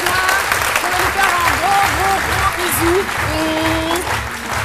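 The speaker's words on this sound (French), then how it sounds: "je vais demander de l'applaudir très très fort" A TV studio audience claps loudly and steadily for an arriving guest on a French midday show, a sustained wash of applause with music playing underneath.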